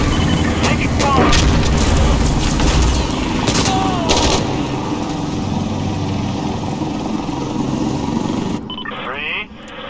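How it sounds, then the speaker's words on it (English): Gunfire crackles in a night-vision firefight in Insurgency: Sandstorm, rapid loud bursts over a rumbling engine-like bed, with voices calling out amid the shooting before it cuts away near the end. "Taking fire."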